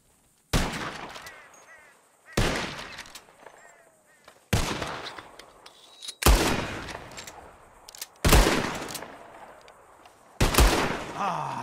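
Gunfire in the Red Dead Redemption 2 video game, shooting at flying birds: six loud, sharp shots spaced roughly two seconds apart, each followed by a decaying echo, with no talking.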